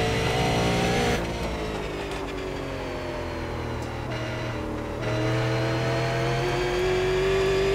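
A Super Late Model race car engine in the iRacing video game at Thompson drones loudly and continuously, its pitch dipping slightly mid-lap and then rising again under acceleration, with no voices over it.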